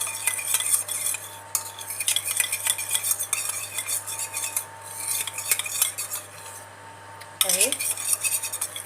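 A spoon stirs saffron powder into oil in a small dish, giving quick close clinks and scraping with a faint sizzle behind, then a brief louder knock near the end.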